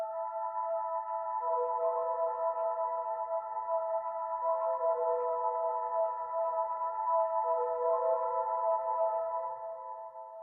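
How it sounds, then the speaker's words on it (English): A sustained synth melody with layered tones smeared by echoing repeats from a Generation Loss MKII, steady and fairly loud throughout, fading slightly at the end. "now we're gonna hit it with the delay to give it more of that washed out feel"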